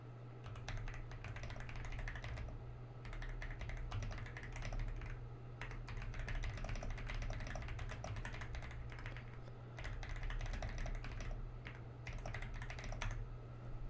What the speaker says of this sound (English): You guys like the sound of my Thoki keyboard?